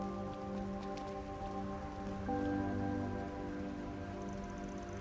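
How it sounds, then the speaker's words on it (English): Rain in the video game Trails through Daybreak pattering steadily on surfaces, a continuous hiss under sustained game music, with no talk. "the little one is just having fun with the rain. Splashing all about and everything."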